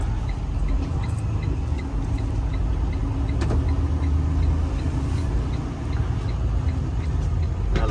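A truck engine rumbles steadily at close range as it pulls up at a repair shop, with low road noise and faint ticking throughout, no voices.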